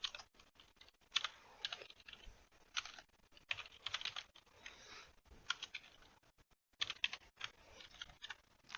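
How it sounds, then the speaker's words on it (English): Typing on a computer keyboard, close and quiet: irregular clusters of light key clicks with short pauses between bursts, no voices. "let me start typing these in too"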